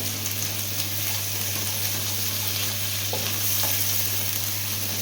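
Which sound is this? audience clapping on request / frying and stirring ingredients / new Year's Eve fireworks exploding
frying and stirring ingredients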